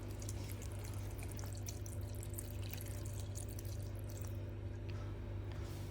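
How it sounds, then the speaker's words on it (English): Water pouring into a grinder jar holding carrot, beetroot, cardamom, jaggery and coconut powder for juice, a steady trickling splash under a low background hum, with no talking. "Add enough water in it."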